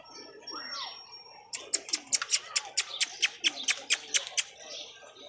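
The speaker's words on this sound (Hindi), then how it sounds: "नीचे से पूरे जोड़ों वाले कबूतर ऊपर लाए हुए हैं।" Pigeons kept in pairs on a rooftop call close by. After a softer opening sound, a rapid, even run of about a dozen sharp, bright pulses follows alone, with no talk.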